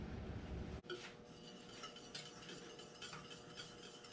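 Coconut cream pie filling stirred in a pot, faint metallic scraping and clinks of a utensil against the pan, close and quiet, with a soft background hum.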